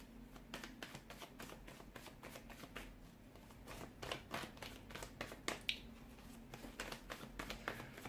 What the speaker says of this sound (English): it just feels like the cards are flying out